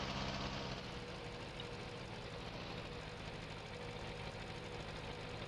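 Tractor engine idling in Farming Simulator 19, a steady low diesel rumble with faint knocking that runs evenly and close throughout, with no talk over it.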